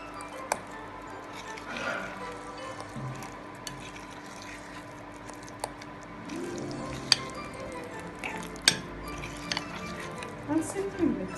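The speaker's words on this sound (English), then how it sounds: "I'll simply cut and fold the mixture." A spatula cuts and folds thick eggless Christmas cake batter with soaked fruits, giving soft wet squelches and occasional scrapes against the bowl over a steady low background.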